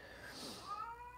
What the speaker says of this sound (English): So sometimes Freckles yawns and meows at the same time.